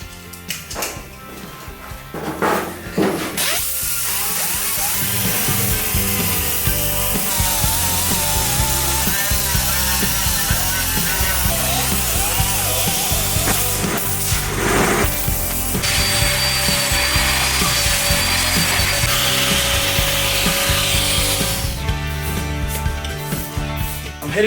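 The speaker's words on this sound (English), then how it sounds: "I'm gonna wire wheel the outer edges of the trunk pan along with the outer edges of the wheel arches" A wire wheel on a power tool scrubs the outer edges of a rusty car's trunk pan and wheel arches, a loud continuous grinding whir running steadily for most of the stretch with brief pauses near the start and middle.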